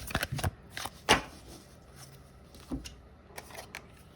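Tarot cards are shuffled and drawn in a few close, crisp riffles and flicks, with soft handling sounds between them and no talking.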